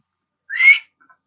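A person whistles one short, rising note, clear and close against silence, followed by a couple of faint tiny chirps.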